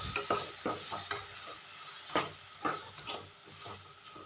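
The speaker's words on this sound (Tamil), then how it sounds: "நல்லா வதங்கட்டும்" A thick ground garlic-gravy paste sizzles and spatters in a hot pan while a spoon scrapes and stirs it in repeated strokes, close up.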